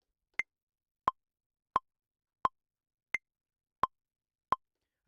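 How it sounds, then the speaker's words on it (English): A Maschine metronome ticks steadily at the set tempo, seven crisp clicks spaced about 0.7 seconds apart, the first and fifth pitched higher as accents. The clicks are clean and isolated, with silence between them. "let's turn on the metronome so we can kind of hear what we're doing"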